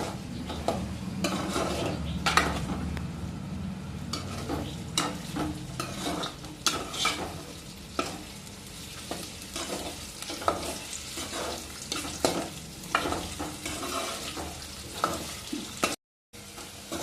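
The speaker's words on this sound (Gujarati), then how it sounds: "આવી રીતે આપણે હલાવતા રહીશું, કારણ કે સોકી ના જાય, એના તપેલીમાં સોકી જાય બટેટા." Potatoes fry in a pan with a steady sizzle while a spoon stirs them, scraping and knocking in repeated strokes close to the listener throughout, with a short silent gap near the end.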